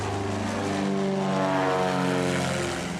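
A propeller airplane engine roars steadily at full power over the beach on Saint-Barthélemy, loud and close, with a deep droning hum throughout.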